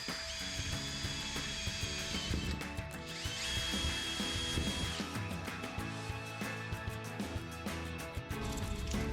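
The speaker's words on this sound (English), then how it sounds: "Using a small drill bit, pilot each one of the mounting holes that you marked." Small drill bit boring pilot holes into mounting hole marks while installing a pop-up camper roof vent, a steady whirring with two sustained higher-pitched stretches of drilling, continuous and fairly close.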